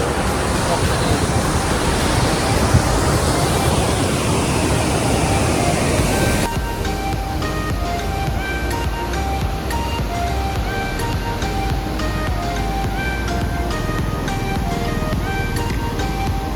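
Kumbhe waterfall sends down a loud, continuous roar of falling water, a dense rushing wash mixed with wind buffeting the microphone, steady from start to finish.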